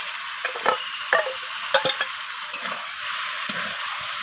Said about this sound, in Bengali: তো লোটে মাছটাকে আমি পেঁয়াজ আর টমেটোর সাথে এইভাবে নাড়াচাড়া করে নেব।